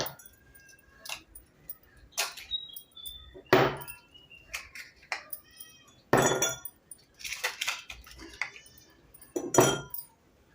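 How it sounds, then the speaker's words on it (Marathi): Ice cubes dropped into two drinking glasses, a series of sharp separate clinks and rattles with quiet gaps in between. "इथे दोन ग्लास घेऊया त्याच्यामध्ये आईस क्यूब करूया"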